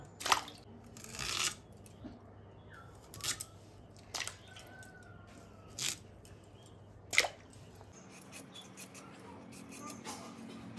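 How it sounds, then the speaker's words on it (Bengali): Raw mangoes being cut into pieces with a knife, a series of sharp, separate cutting clicks and crunches spaced a second or two apart, close up over a quiet kitchen background. "এইভাবেই প্রত্যেকটা আম টুকরো টুকরো করে নেব।"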